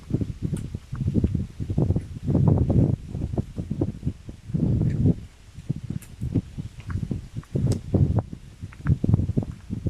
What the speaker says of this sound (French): vous devez entendre peut-être le vent qui vient caresser les branches d'un magnifique arbre sous lequel je suis